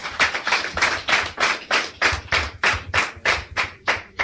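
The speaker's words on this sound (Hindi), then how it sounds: "ताली बजाने इनके लिए।" Audience applause at an Indian motivational seminar, steady rhythmic clapping in even beats roughly every third of a second, loud and close with no talk over it.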